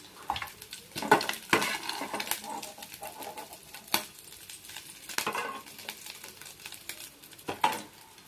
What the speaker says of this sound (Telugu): అదే కళాయిలో గోంగూర కూడా వేసుకున్నాం ఫ్రెండ్స్. అదే ఆయిల్లో.